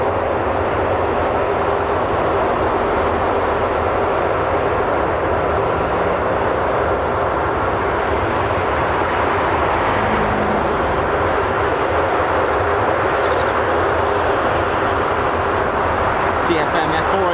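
A military jet powered by CFM F404 engines rated at 21,600 pounds of thrust each gives a loud, continuous roar that holds steady for the whole stretch, close and dominant.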